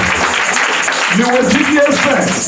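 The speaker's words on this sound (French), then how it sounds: "Acclamez pour le Seigneur." A church congregation gathered for a miracle and deliverance service claps for the Lord in a steady, fairly loud round of applause while a voice talks over it, and a singing tone rises near the end.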